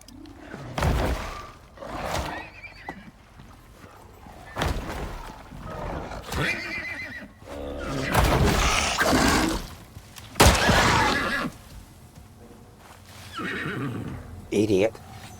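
Video game horse gives loud, repeated whinnies and neighs in bursts, mixed with clattering hooves and thuds, while someone talks over the action.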